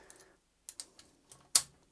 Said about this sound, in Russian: Капот у меня открывается и закрывается вот с таким вот щелчком.